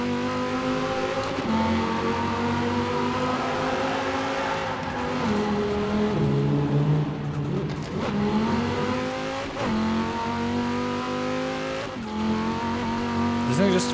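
The Cyberpunk 2077 car in Forza Horizon 4 accelerates hard through the gears, its engine climbing in pitch and falling back at each of several shifts, loud and close.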